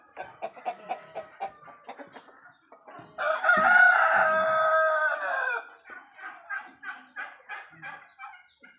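A rooster crows loudly in one long drawn-out call, framed by steady rhythmic clucking from chickens before and after.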